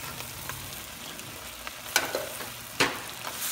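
Squash and vegetables fry in a pan for pinakbet, a soft, steady sizzle with a few sharper crackles and stirring scrapes standing out near the middle and end.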